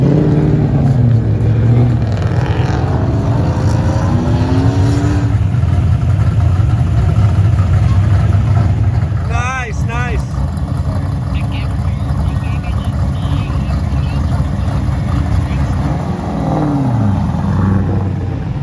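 First-generation Chevrolet Monte Carlo engine running loud and close during a ride at a club meet, a steady rumble with some revving, while people talk over it.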